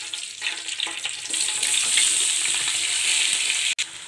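Sliced onions for chicken biryani frying in hot oil, a bright, steady hiss and crackle up close that swells after the first second and stays loud, with a brief cut near the end and no talking.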